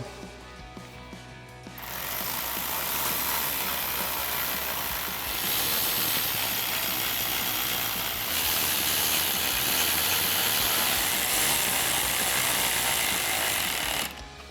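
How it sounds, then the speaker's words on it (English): Ratchet with a 10mm socket tightening the top bolts on a 2018-2020 Ford F-150 headlight install, a steady dense mechanical clatter running continuously for about twelve seconds at close range with no talk. "we'll tighten those down with our 10mm socket"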